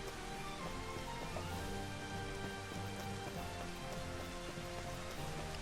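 Steady rain falls in the video game Final Fantasy XV, a dense, constant patter on surfaces holding at an even level throughout with no talk.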